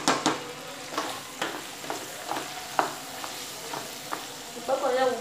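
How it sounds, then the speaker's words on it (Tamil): Vegetables and masala fry in oil for sambar, sizzling steadily beneath repeated scraping stirs of a spoon against the pan, close and moderately loud. "கொஞ்சமாக எண்ணெய் ஊற்றி காய வச்சுட்டு இப்போ இந்த காய்கறி எல்லாத்தையும் ஆட் பண்ணிக்கலாம்."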